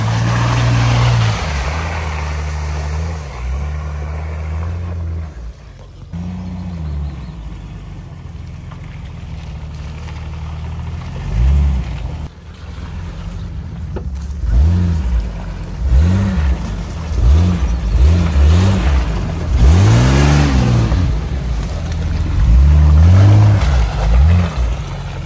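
A Jeep Grand Cherokee ZJ with its 4.0 engine works off-road, rumbling loud and close, with the revs rising and falling in repeated surges as it climbs over rough ground.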